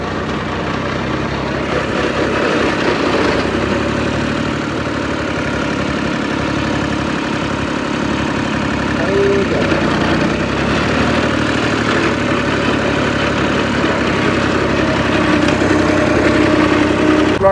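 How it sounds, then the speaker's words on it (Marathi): A tractor engine runs loudly and steadily throughout, a continuous close-up drone in an orchard field setting with no break in the noise. "या ट्रॅक्टरला आवाज जास्त आहे"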